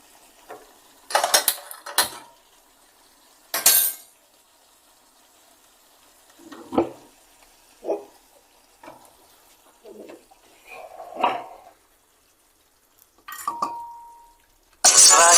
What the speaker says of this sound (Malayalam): ഞങ്ങൾ ഇനി ഇത് കുക്കറിനകത്തോട്ട് നമ്മൾ ആഡ് ചെയ്യുകയാണ്